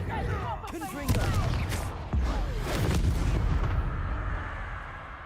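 Confringo explosive spell cast in Hogwarts Legacy, a series of heavy booming blasts with sharp cracks and rumbling tails, loud and close, mixed with game sound effects and brief voices.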